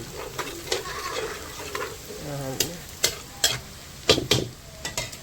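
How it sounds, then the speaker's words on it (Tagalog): Garlic and onion sautéing in a pan for beef lengua, a constant close sizzle punctuated by sharp, repeated clacks and scrapes of a utensil stirring, irregular in rhythm, with no voices. "Pag sobrang gisa na ang ating bawang at sibuyas"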